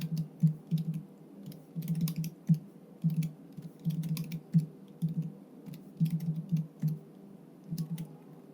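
Typing on a computer keyboard while entering data in Excel, with close, steady bursts of soft key clicks separated by short pauses.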